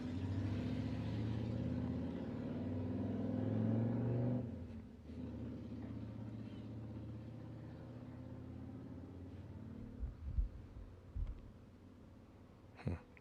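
A car pulls away outside, its engine a loud low rumble that swells for the first few seconds, then drops to a steady distant drone with a few soft thumps near the end.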